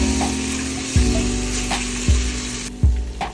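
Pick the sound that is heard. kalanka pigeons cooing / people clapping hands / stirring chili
stirring chili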